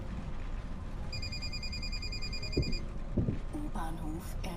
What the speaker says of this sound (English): I'm glad we don't hear that phone ringing as often as we used to.